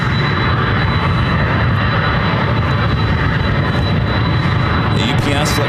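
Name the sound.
UPS 767 and FedEx 757 cargo jets at airport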